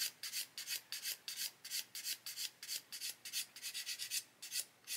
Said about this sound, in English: We're going to get rid of that sprue nib first, and then just sand away.